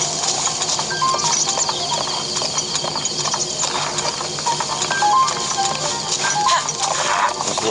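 A horse gallops in The Legend of Zelda: Breath of the Wild, its hooves making a rapid, loud run of clip-clop beats that continues without a break, along with game sounds and what may be a whinny.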